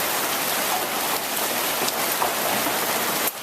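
Pea-sized hail, some stones a little bigger, falling steadily on a dark morning outdoors, a dense even hiss of many small impacts with no voices.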